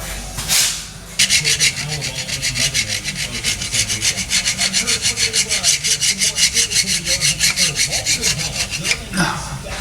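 Steady rhythmic scrubbing on the starter mounting boss during a Tremec TKX transmission install, close and fairly loud back-and-forth strokes repeating evenly for most of the stretch, with no talk.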